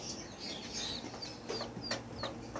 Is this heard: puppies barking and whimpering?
no